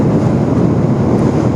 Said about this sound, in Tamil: இந்த பக்கம் அலை வந்து பார்த்தீங்கன்னா வேகமாக வந்துட்டு இருக்கு